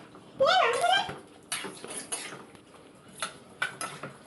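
A spoon clinks and scrapes against a pot as chicken curry is stirred, a few sharp metallic taps and scrapes spread over several seconds, close by, with a brief squeaky sound near the start and some talking in the background.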